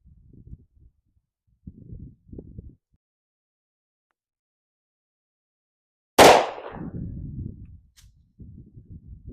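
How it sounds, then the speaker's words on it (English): A Glock 29 fires Winchester Defender 180-grain 10mm jacketed hollow-point rounds through a chronograph: one sharp, loud shot with a short rumbling decay stands out amid faint low murmurs and handling noises. "through the chronograph, the Glock 29 shooting the Winchester Defender 180 grain 10mm jacketed hollow point"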